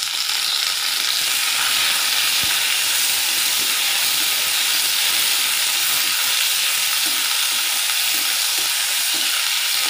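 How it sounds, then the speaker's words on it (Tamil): Thoothuvalai leaves frying in a pan with roasted garlic and dried red chillies for onion chutney, giving a continuous loud hiss and sizzle with faint stirring scrapes and no talk. "இதோட நம்ம தூதுவளையும் போட்டு நல்லா ஃப்ரை பண்ணிக்கலாம்"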